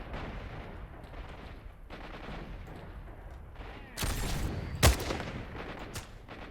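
A sniper rifle shot rings out in the game S.T.A.L.K.E.R.: Shadow of Chernobyl, a single loud sharp crack with a brief rumbling tail, following a burst of broadband noise over steady ambient game background.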